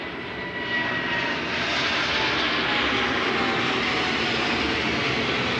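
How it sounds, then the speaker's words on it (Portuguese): A fixed-wing airplane passes overhead, its engine a steady, broad rumbling roar that swells slightly and holds loud throughout, with no talking. "Vai passar um avião, eu vou dar uma pausa aqui rapidinho"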